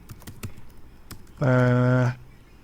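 A computer keyboard typing code: a few sharp, isolated key clicks, followed by a brief sustained voiced tone, all close to the microphone.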